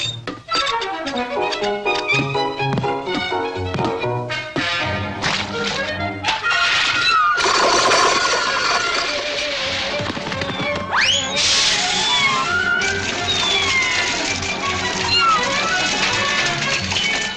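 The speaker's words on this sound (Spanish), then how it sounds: "¡Sálvalo, Pluto! ¡Salva al pobre gatito!" A cartoon cat meows amid a busy orchestral score in a 1930s Disney short, with crashes, whip-like effects and sliding whistles layered over continuous loud music.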